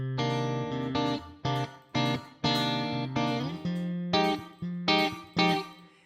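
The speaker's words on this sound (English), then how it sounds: "I'm gonna add in a room reverb, a digital reverb, room reverb." Electric guitar plays a series of distorted chords and notes, each struck sharply and ringing out with a short roomy tail from a digital room reverb.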